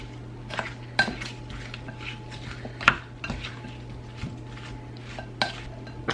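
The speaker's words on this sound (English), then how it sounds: "I'm going to stir this up again" A utensil stirs food in a dish ahead of roasting, making scattered clinks and scrapes against the dish with a few sharper knocks over a low, steady background hum.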